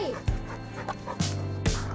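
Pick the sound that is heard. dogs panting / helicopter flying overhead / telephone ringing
dogs panting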